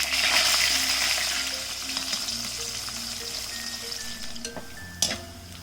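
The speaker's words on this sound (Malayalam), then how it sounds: "ഓയിലിലേക്ക് ഇട്ട് ഫ്രൈ ചെയ്തെടുക്കുകയാണ് ചെയ്യുന്നത്" Spiced yam pieces deep-frying in hot oil, a dense, steady bubbling sizzle close by that eases slightly over time, with a couple of sharp clinks from a utensil toward the end.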